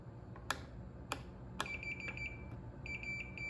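A multimeter's continuity tester beeps while probing traces on an air conditioner inverter circuit board, giving several short sharp clicks and then brief high electronic tones, fairly quiet and close.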